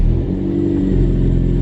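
A Toyota MR2 engine starting and idling steadily with a low, even rumble, close by, with no voices.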